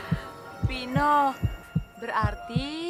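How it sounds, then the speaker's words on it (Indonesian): A fast heartbeat sound effect thumps in a steady quick rhythm while a high, wavering childlike voice speaks over it. "Jantung kamu berdetak kencang"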